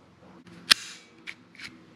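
The metal slide of a full-metal replica pistol clacks sharply once, then two softer mechanical clicks follow close by, with no talking.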